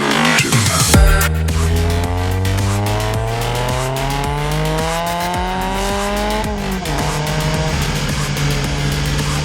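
A turbocharged Subaru BRZ with a Pandem kit roars loudly throughout, engine pitch climbing steadily through a long pull, dropping at a shift and climbing again, close and continuous with no voices.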